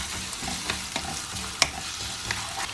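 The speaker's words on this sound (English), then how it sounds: "I'm gonna put our onions in." Onions fry in olive oil for a tikka masala, giving a close, steady sizzle and crackle punctuated by light scraping stirs and one sharp clink of a utensil on the pan.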